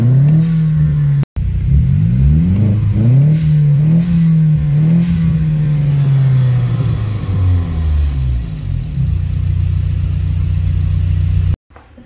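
A BMW B48 turbocharged engine on a dyno with a nitrous shot roars loudly. It revs up and down in repeated sweeps, then holds a steady high-load drone before cutting off abruptly.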